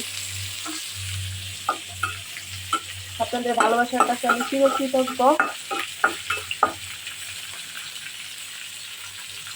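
Fish pieces frying in a home kitchen pan, a low steady sizzle running underneath someone speaking in the middle of the stretch.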